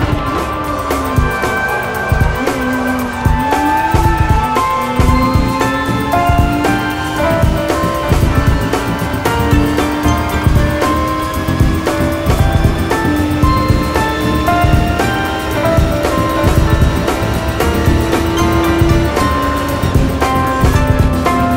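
A Nissan race car in a racing simulator game drones loudly and continuously, with the engine pitch dipping and climbing through gear changes over a steady dense rumble.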